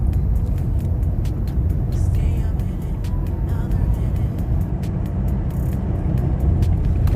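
Cabin drone of a 2017 Toyota Fortuner diesel cruising on an empty road under cruise control and picking up speed, a steady loud engine and road rumble running throughout with faint clicks and no talk.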